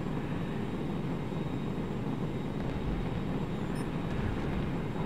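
A He 162 jet aircraft in a video game, heard as a steady, loud, unbroken engine roar and rushing wind throughout.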